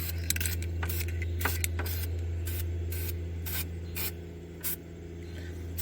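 Flat black rattle-can spray paint applied in light coats behind the grille of a 2003 vehicle, short hissing bursts repeating several times over a steady low hum.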